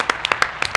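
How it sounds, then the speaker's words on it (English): A short burst of scattered hand claps during a podcast show, a few sharp close claps in quick irregular rhythm with no talking. "Round of applause for Ian."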